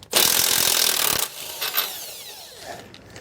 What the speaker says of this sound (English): So we're just going to remove the nut.